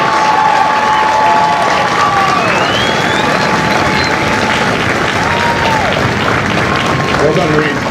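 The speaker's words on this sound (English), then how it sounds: "Would you join me in a round of applause for the Marines who make Marines" A large audience at a Marine Corps Recruit Depot graduation ceremony in San Diego gives loud, sustained applause with some cheering and whistles for the drill instructors, with voices mixed in the crowd noise.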